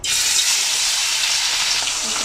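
Fish sizzling in hot oil in a kadai, a loud, steady, bright crackling hiss that begins abruptly and continues without a break.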